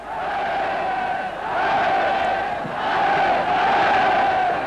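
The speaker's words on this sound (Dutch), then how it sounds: "Honderdduizenden boeren zijn naar hier gekomen om de dictator toe te juichen." A huge crowd of hundreds of thousands of farmers roars and cheers for Hitler at an outdoor rally in the Third Reich, a dense, sustained mass of voices swelling in waves.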